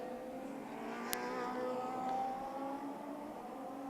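Radical race cars at Barcelona during the 2015 Radical European Masters, engines droning and rising in pitch at moderate distance, with a short sharp click partway through and a steady blend of motor tones throughout.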